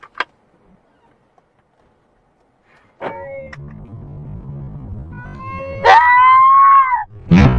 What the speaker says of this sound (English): You hear the lady scream?